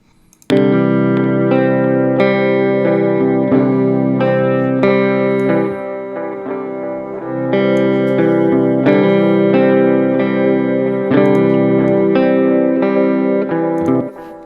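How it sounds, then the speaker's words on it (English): Distorted electric guitar chords ring out through a tape delay effect, repeating echoes trailing each strum, sustained and layered over several seconds. "I've got the tape delay from Logic, and let's have a listen to that."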